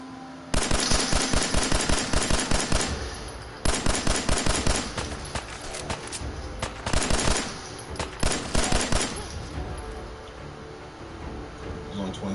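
Powerful automatic gun firing in a video game, loud rapid bursts of shots in several volleys separated by short pauses, with sharp cracks and trailing echoes.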